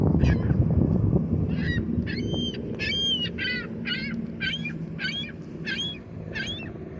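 A flock of geese honk repeatedly by a river, landing in cold water; about ten separate calls ring out in a steady series over a low rumble of moving water, fairly close and clear.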